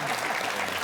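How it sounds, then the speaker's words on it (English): A short burst of studio audience applause on a comedy panel show, fairly faint and continuous, with a voice speaking over it. "There's a clap."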